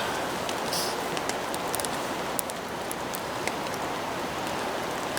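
Heavy rain pours down outdoors in bad weather, a steady dense hiss of drops hitting surfaces close by, with a few louder individual drips and no voices.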